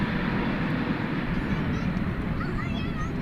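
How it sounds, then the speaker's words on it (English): A Boeing 777-300 arriving from London Heathrow touches down at DFW airport at night, heard as a steady, dense broadband jet roar that stays loud and unbroken throughout. "this 777-300 just touching down from London Heathrow"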